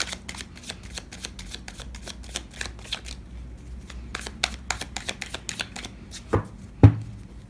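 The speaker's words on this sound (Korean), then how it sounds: "자, 그럼 첫 번째 카드부터 뽑아보도록 하겠습니다." Tarot cards shuffled and riffled in quick, crisp repeated bursts of flicking and slapping card sounds, close and steady, ending with a couple of louder taps as cards are drawn, no talking.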